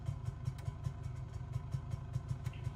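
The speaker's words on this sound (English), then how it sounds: "It sounds just like my old single-cylinder snowmobile engine." Small single-cylinder APU pony motor idling aboard a Savoia-Marchetti S.55 flying boat in a flight simulator, a steady rapid low chugging beat with light clatter, close and alone.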